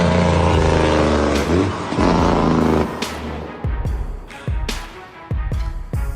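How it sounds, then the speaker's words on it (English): A heavy logging truck with a massive load rolls down a hill. A steady loud engine roar comes first, then gives way to a run of sharp clanks and bangs that repeat close by. "The way that logger truck descends the hill with such a massive load is mesmerizing."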